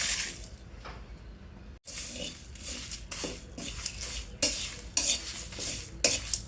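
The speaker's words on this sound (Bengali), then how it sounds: "মশলাগুলি একসাথে দিয়ে ভেজে নেব।" Whole spices, including fennel, small cardamom and cinnamon, dry-roasting in a dry pan for jujube pickle, with repeated scraping stirs and a light sizzle, broken by a brief silent gap near the start.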